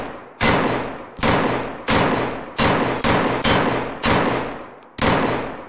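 Hunter rifle fitted with a sight firing in Escape From Tarkov, eight loud booming shots at a steady pace of roughly one every 0.7 seconds, each with a sharp crack and a decaying tail, no talking.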